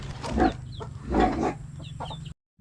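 Brooding hens with newly hatched chicks cluck a few times close by, two or three short throaty clucks in quick succession before the sound cuts out.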